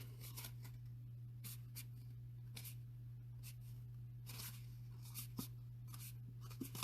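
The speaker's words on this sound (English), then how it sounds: "I've got my fingernail kind of pressing it up, and then I can just kind of fold it down as we go here." Paper is folded along a score line with a fingernail, giving faint, quiet scraping and rubbing strokes in short bursts over a low steady hum, with no talking.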